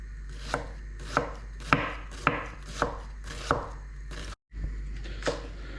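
Knife chopping through fresh cod on a board with a freshly sharpened blade, a steady run of about eight sharp, evenly spaced cuts close by, each a crisp thud-click.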